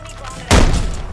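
A single loud burst of gunfire from Call of Duty: Modern Warfare III, close and sudden after quiet background noise, with the shot's tail ringing out over the next half second.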